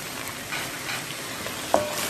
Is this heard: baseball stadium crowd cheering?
no